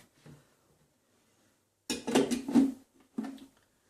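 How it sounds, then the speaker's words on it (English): A Thermomix lid is set and fitted onto the bowl with a couple of brief plastic clatters and knocks, near and moderately loud, after a quiet pause. "I've got to put the lid on"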